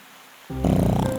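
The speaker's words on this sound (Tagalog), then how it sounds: "Sa lakas ng hilik niya ay gumagalaw pati ang mga sanga ng puno." A cartoon wolf snoring loudly, one deep rasping snore that starts abruptly after a brief quiet moment and swells into a rough, rumbling drone.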